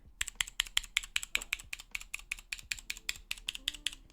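Blue-switch mechanical keyboard keys clack one after another in a steady, rapid rhythm, each press a loud, sharp click heard up close with no talking.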